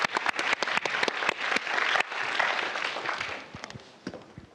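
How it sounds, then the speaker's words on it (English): Audience applause follows a panel discussion at a design summit, a dense, fairly loud wash of clapping that swells for a few seconds and then gradually thins out. "Give them a warm applause."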